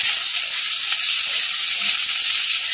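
Onions, capsicum and chillies stir-fry in a pan over high flame, giving a loud, steady sizzling hiss close up with faint scraping of stirring underneath.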